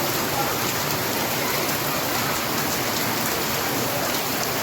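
Heavy monsoon rain in Junagadh pouring in big drops, a dense, loud, continuous roar of water drumming on surfaces close by, unbroken and without voices.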